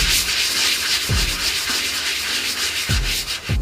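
A Nike Flyknit 4.0 shoe being scrubbed with a brush in a close, continuous, loud rasping rub, with a few short strokes standing out.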